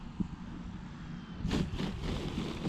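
An FMS T28 Trojan radio-controlled model airplane on a go-around with flaps down, its electric motor droning steadily at a distance, then swelling louder as it passes closer.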